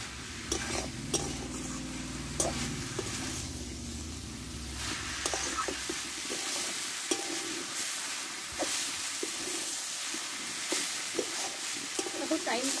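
Dry cabbage tossed and stir-fried in a pan with fish heads to come, giving a constant crackling fry broken by repeated sharp spatula scrapes and taps against the metal, moderately close.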